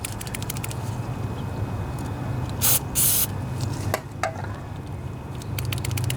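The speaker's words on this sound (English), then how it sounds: "Spray down in there and continue to work it loose." Two short hissing bursts of aerosol spray into a riding lawnmower's stuck fuel solenoid, close by, over a steady low engine-like hum and faint rattling.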